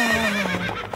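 A horse gives a loud, close whinny that rises and wavers for nearly a second before trailing off, with no talk over it.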